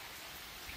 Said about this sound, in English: All he can do is watching the rain.